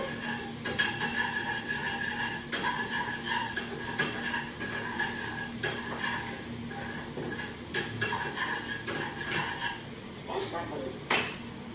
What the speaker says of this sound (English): You put in the garlic and you mix it around.